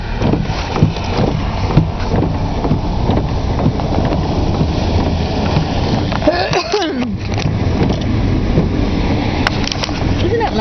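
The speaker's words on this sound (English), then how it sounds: "I gotta go start driving again" Car driving through a snowy winter landscape, with a loud, steady road and wind rumble throughout and a brief swelling whoosh partway through; a person talks over the noise.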